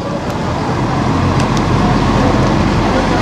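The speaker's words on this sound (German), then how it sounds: "Und da kommt auch schon unser Bus." Bus pulling into the Oberstdorf bus station, a loud continuous engine and road rumble with a couple of faint high squeaks, heard up close without talk.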